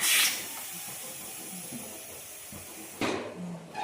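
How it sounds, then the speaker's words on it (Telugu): Steady hissing and bubbling of a non-veg curry with green chillies and tomatoes boiling in a pot, close and continuous, with a brief louder burst near the end. "అదిగో మరుగుతుంది"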